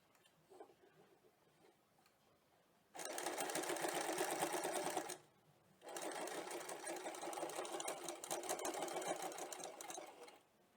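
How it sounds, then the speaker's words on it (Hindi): A sewing machine runs a zigzag stitch along a blouse piping edge in two bursts, a steady close whirring rattle pausing briefly between runs over a quiet room. "इस तरह से इसको प्लेस कर दें, ये एजेस अंदर चले जाएंगे और ऊपर से जिगजैग स्टिच कर देंगे।"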